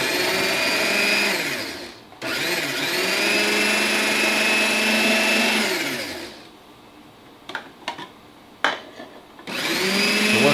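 A kitchen blender pulses a sauce as sherry vinegar is added, loud whirring bursts of a few seconds each, separated by short pauses with faint clatter before the motor starts again.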